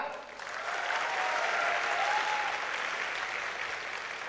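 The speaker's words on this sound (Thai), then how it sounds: "ขอเสียงประมือให้พี่นกอนงศิริวานิชครับ" A roomful of people clap together in sustained applause, swelling quickly and holding steady for several seconds.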